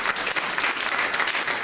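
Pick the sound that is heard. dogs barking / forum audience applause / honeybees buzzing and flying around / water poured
forum audience applause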